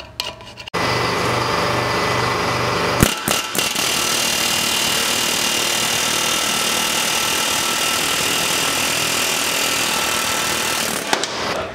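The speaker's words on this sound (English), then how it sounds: "now that we had fun air hammering it out" Pneumatic air hammer knocking a ball joint out of a car's suspension during a tie rod end and extended ball joint install, a loud continuous rapid chatter running almost the whole time with a brief pause near the start.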